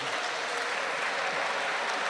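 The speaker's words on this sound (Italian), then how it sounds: "Parte l'applauso proprio così" Steady audience applause fills the hall at an inaugural assembly as a guest is welcomed, a continuous even patter of many hands clapping.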